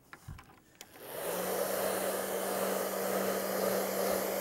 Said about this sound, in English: I have the blower.